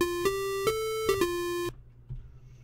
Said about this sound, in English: make this even shorter on the decay to give it kind of a plinking sound